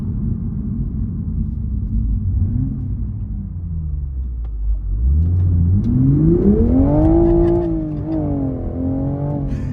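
Engine of a manual Toyota GR Supra rumbles low, dips, then climbs in pitch as it accelerates hard with a rising rev, then holds and wavers near the top; close and loud, no talking.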